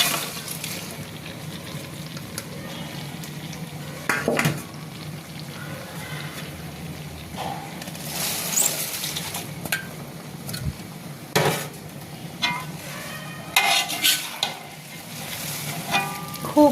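Cabbage tossed into a hot pan and stir-fried, steady sizzling and frying under intermittent scraping and clanking of a spatula against the pan, with no talk.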